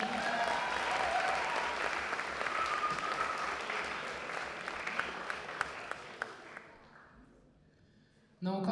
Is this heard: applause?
yes